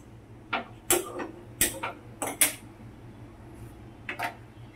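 Moong dal being lightly dry-roasted in a pot on a stove, with a handful of sharp metallic clinks and taps from handling the pot and utensil, spaced irregularly and fairly close.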